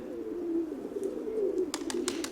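Pigeons in a loft coo in a steady low murmur, with sharper flutters or clatters near the end; no voices.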